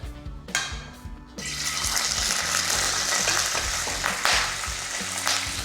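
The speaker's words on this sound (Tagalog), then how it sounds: "Kunin nyo lang tong chicken isa-isa at iprito nyo lang." Pieces of chicken go one by one into hot garlic oil, a rising, steady sizzle with spattering crackles and a few low knocks from the pan.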